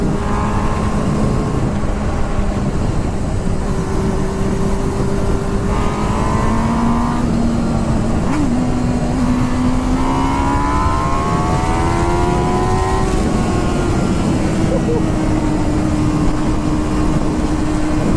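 Motorbike fitted with a quick shifter being ridden, its engine droning loud and steady, rising and dropping in pitch through gear changes, with constant road and wind roar and no talk.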